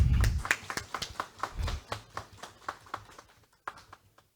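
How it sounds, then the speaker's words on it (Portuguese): A round of applause at an ordinary council session, quick hand claps building into a dense burst, then thinning into scattered claps that trail off, heard fairly close with no talk over it. "Eu quero dar uma salva de palmas para você, meu irmão."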